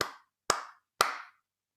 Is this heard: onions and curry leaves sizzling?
no